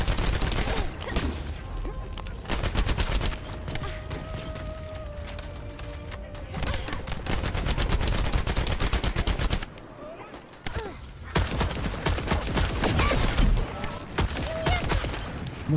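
Gunfire from a looter shooter video game rattles in long automatic bursts and rapid volleys, loud and close, with a brief lull before the shooting resumes.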